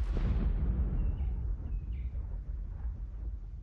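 A heavy rifle fires once in Call of Duty: Black Ops 4 Blackout, a single deep booming shot at the start whose rumbling echo fades away over the following seconds.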